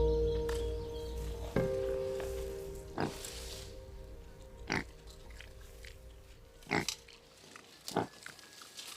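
Pigs on the Galápagos Islands grunt in a series of short, separate snorts with pauses between them, close and clear against a quiet outdoor background.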